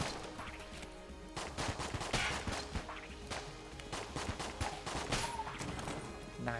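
Rapid gunfire from the twin-stick shooter Enter the Gungeon, with dense bursts of shots and impacts crackling through a continuous busy game mix, no talking.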